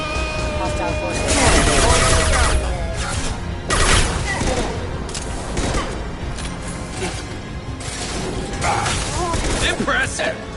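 Heavy gunfire erupts in a Mass Effect Legendary Edition firefight, with repeated loud bursts, booms and crashes in irregular clusters, while voices shout over the battle.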